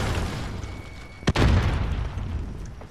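Bomb detonation in Call of Duty Modern Warfare, a single sharp, loud blast preceded by a brief click, then a rolling low rumble that fades over a steady background din.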